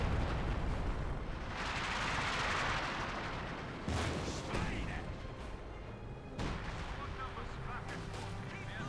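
British artillery fire in the video game Company of Heroes 2, with a heavy rumbling barrage followed by several sharp explosive impacts at moderate loudness, under a game battle's ambient noise.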